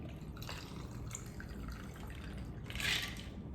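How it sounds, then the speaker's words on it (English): Coffee from a Ninja specialty coffee maker poured over ice in a glass, a soft steady liquid trickle and drip at close range, swelling to a brighter splash near the end, with no talk. "Then I'm gonna pour the coffee"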